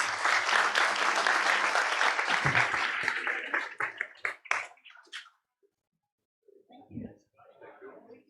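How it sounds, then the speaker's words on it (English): Applause from a forum audience for panelists, loud and full for several seconds, then breaking into a few scattered claps before fading to near silence, with faint talk at the end. "please give them a big applause"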